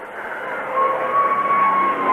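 A Hawker Hunter F6 jet at an airshow gives a steady, loud broadband roar that builds slightly and holds throughout, with a thin whining tone running through it.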